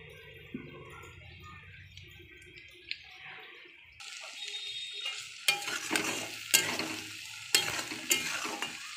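Onions fry in a pan while biryani is being made, starting with a low sizzle before a louder burst of frying and stirring scrapes as ingredients go in, close and continuous.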